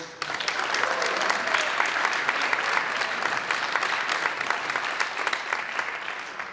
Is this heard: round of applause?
yes